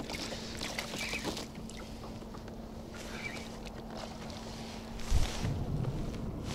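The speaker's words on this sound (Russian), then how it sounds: "Вон еще лодка какая-то едет." A boat motors by on the Buzan River, a steady engine drone with wind buffeting the microphone and a low thump near the end.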